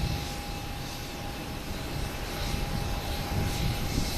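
A JetBlue Airbus A320 departing Boston Logan for Orlando, a loud, steady jet-engine roar with a thin high whine running through it, close and alone without talk.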